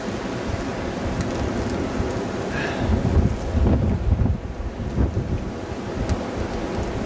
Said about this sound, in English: it's still very windy out here in blizzard